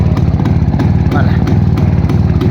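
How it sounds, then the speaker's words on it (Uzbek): A motorcycle engine, part of a sale in Fergana, putters loudly at close range in a quick, regular idle rhythm that holds steady for the whole short stretch. "Mana motor ishlashini ko'ring."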